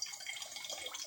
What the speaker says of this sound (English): Filling up my beer bottle. By that I mean my ginger beer bottle.